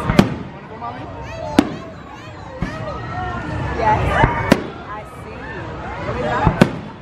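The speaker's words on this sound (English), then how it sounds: "Check the fireworks." Fireworks bursting at Sesame Place theme park, several sharp loud bangs spaced a second or two apart, with crowd chatter and people talking between them.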